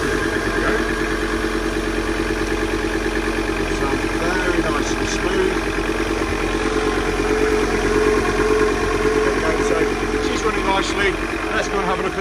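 The engine of an Arvor 215 boat idles steadily at close range, a continuous even rumble with a constant tone and no change in speed throughout.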